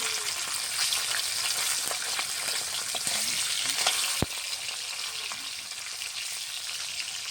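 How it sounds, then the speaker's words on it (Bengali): Continuous loud sizzling and crackling of rohu fish pieces frying in hot oil, with one sharp clink partway through; no voices. "একটু ভেজে নিব।"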